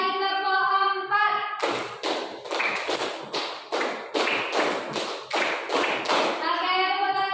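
A class of children claps in rhythmic bursts, about a dozen sharp, loud claps in a steady beat, framed by children's sustained voices before and after.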